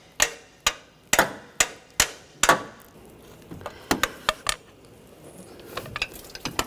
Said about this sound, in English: Just using a hammer, just tap this loose a little bit.